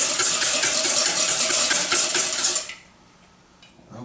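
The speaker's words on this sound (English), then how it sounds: "using a whisk and nothing else, I'm just going to beat the bejeebers out of those" A whisk beats eggs rapidly in a bowl, a dense, bright, continuous rattle that is loud and close, stopping abruptly after a few seconds and leaving near silence.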